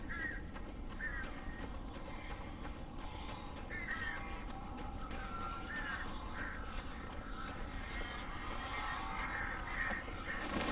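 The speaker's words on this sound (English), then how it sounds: "These birds are weird." Crows in the video game Alan Wake give repeated harsh caws, scattered in short bursts over a low ambient background, fairly faint and with no speech.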